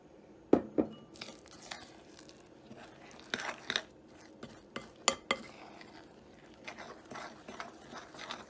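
Oatmeal coconut cookie dough with flour being mixed in a bowl, with irregular scraping and clinking of the utensil against the bowl, close and fairly quiet, in uneven bursts.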